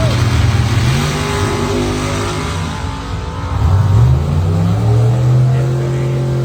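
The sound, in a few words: drag race cars launching, 69 SS Camaro and altered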